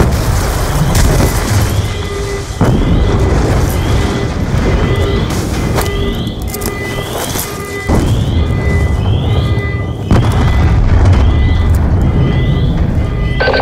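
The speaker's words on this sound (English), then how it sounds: "We're monitoring multiple explosions across the facility." Explosions in the Call of Duty Black Ops II campaign, set across a military facility: several heavy, rumbling booms break out at intervals over a constant loud din of battle noise.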